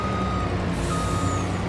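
A truck's reversing alarm beeps steadily while parking in Farming Simulator 25, a regular electronic pulse over a constant engine rumble, close and fairly loud with no talking.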